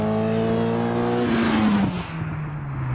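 A Caterham race car on a track sweeps past with a rising engine note that peaks close by and then drops in pitch as it pulls away, loud and alone.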